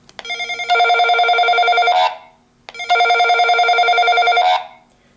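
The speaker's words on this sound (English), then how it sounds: "if you push this button on the right, the other walkie-talkie would start ringing" A walkie-talkie ringtone alert plays twice, each a loud electronic warbling tone lasting over a second, separated by a short pause.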